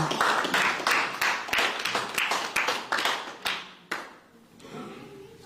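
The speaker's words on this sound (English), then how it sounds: "Let's give our clap offering to God this morning." A church congregation at a Sunday service claps in a steady, unison rhythm, sharp repeated hand claps close and clear for about four seconds, then fading into quieter room noise.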